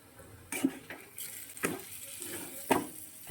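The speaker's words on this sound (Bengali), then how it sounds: "সয়াবিন আর মশলা কষে গেছে," Soybean chunks and spices being stir-fried in a pan, a few distinct scraping and clinking strokes of a spatula against the pan spaced about a second apart over a quiet background.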